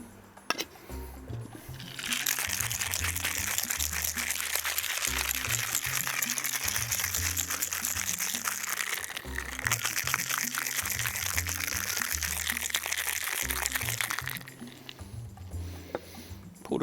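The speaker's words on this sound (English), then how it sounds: "Now we've got to give it a little bit of a shake." Mary Pickford rum cocktail rattling steadily in a lidded shaker, a continuous loud churning swish that runs for about twelve seconds before stopping.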